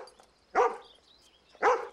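A dog gives two short, loud vocal bursts about a second apart, barking or yelping close by against a quiet background.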